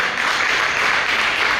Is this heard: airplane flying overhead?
no